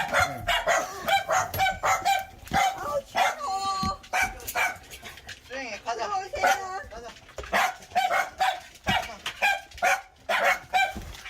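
Small dogs in a multi-dog household bark at visitors in repeated short bursts, close and loud, mixed with people talking over and between the barks.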